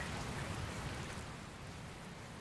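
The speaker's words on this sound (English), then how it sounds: "Oh, it's raining." Rain in the Dragon Quest Builders 2 video game falls as a steady, dense hiss of drops, even and unbroken, with no voices.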